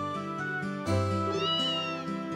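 Kitten meowing in the video game Trails in the Sky SC, a few clear, tonal cries rising and falling in quick succession over a soft musical background, close and fairly quiet.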